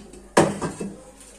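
Steamed idiyappam being lifted apart from a steamer: one sharp metallic clatter of the pans, followed by a couple of softer knocks, close and brief, with no talking.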